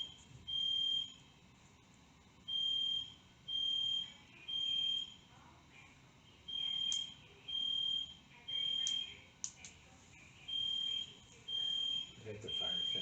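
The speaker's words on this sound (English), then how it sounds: "It's a fire alarm." A building fire alarm sounds during a fire drill, a high electronic tone pulsing on and off in steady, evenly spaced bursts, heard at a moderate distance inside a room while people talk quietly in the background.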